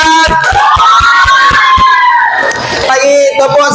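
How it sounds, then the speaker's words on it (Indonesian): Grade 11 class clapping for a presenting group, a quick run of evenly spaced loud claps at first, under excited shouting and whooping voices that carry on after the beat stops. "Tepuk tangan dulu untuk kelompok 2. Tepuk tangan yang kuat."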